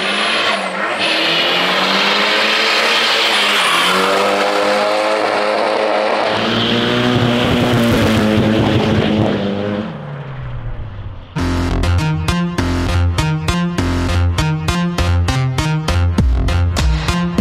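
A drift car in Barcelona screams through high revs with squealing tires and shifting engine pitch, then the engine bounces rapidly and rhythmically off the rev limiter, loud and close.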